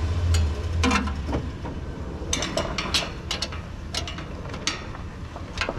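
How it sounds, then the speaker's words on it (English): A 9/16 wrench and socket ratcheting bolts off an old 1929 McCormick Deering tractor, giving clusters of sharp close clicks and ticks over a low background hum. "I got a 9/16 wrench and socket"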